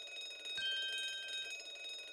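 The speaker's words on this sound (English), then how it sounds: "This would appear to be an alarm bell." An alarm bell rings in The Great Ace Attorney 2, a bright steady metallic ringing that holds for about a second over a low background hum, then fades.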